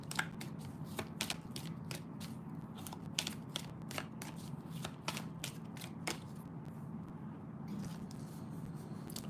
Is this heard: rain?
no